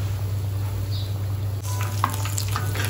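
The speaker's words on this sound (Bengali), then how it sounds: "এই যে বেগুনি ভেজে নিচ্ছি," Beguni, battered eggplant fritters, fry in hot oil, a steady close sizzle with brief crackles and light stirring sounds.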